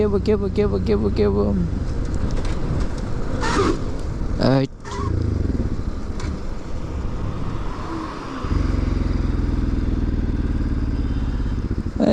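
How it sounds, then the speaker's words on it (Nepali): A broken-down motorcycle's engine rumbles steadily nearby in a jungle on the Dharan–Itahari road for the whole stretch, with a voice talking over it early on. "तेल सक्यो कि के हो मेरो बाइकको के भयो"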